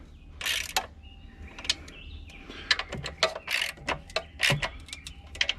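Bolts on a 2001 Cadillac starter being snugged with a ratchet, giving sparse, close, crisp clicking strokes in small irregular bursts against a quiet background.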